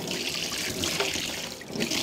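Tap water runs steadily while raw goat meat is rinsed outdoors for a barbecue, a close, continuous splashing trickle with small surges and no speech.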